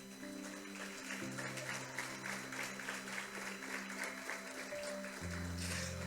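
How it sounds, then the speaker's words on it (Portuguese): Steady applause from a church congregation during a family worship service fills the whole stretch, with sustained instrumental music playing underneath. "Dê uma salva de palmas a Ele"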